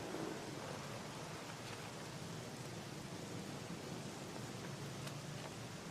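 Steady heavy rain hisses across outdoor surfaces with a low rumble of thunder underneath, a dense, unbroken wash of sound at moderate volume with no voices.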